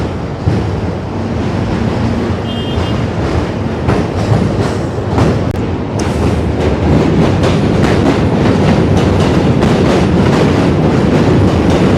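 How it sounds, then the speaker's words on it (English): A subway train crossing a bridge to Brooklyn rumbles and clatters steadily along the rails with a constant roar and rhythmic clicking, loud and close throughout, with no talking. "There's a subway train that also goes across"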